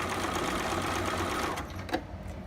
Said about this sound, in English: I'm just going to zigzag that all the way around